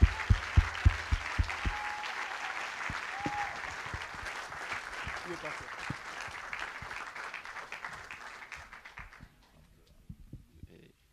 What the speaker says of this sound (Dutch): Laten we gaan staan en pastor Erik en zijn vrouw welkom heten met een applaus